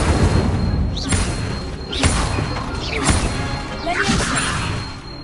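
Incendio fire spells cast in Hogwarts Legacy: four loud, forceful whooshing blasts about a second apart, each a bright burst with a rising swish, over a dense rumbling battle backdrop.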